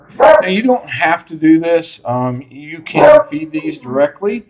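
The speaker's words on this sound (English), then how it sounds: "sorry about my dogs going in the background" Dogs bark in the background, partly masked by a person talking steadily in the foreground while hatching brine shrimp indoors.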